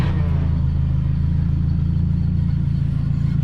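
A car idling steadily on a straight-through muffler with no other silencing, giving a close, even, low rumbling drone with a fine regular pulse and no revving.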